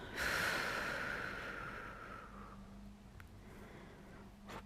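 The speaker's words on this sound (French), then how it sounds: "et souffler fortement par la bouche." One long, forceful breath blown out through the mouth during a relaxation exercise, strongest at the start and tapering off over a couple of seconds into quiet room tone.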